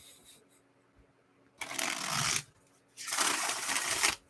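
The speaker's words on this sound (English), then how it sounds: "I'm just going to shuffle" A deck of tarot cards is shuffled nearby in two quick riffling bursts, each lasting under a second, separated by a short quiet pause.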